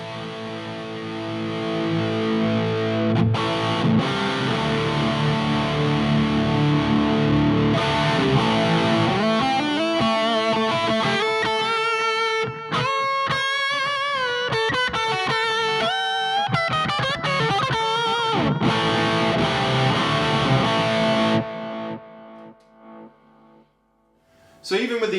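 Electric guitar played through an Orange Dark series amp with the attenuator halfway and channel A volume at halfway, fizzy saturated distortion in sustained chords and riffs, loud and continuous before cutting off near the end.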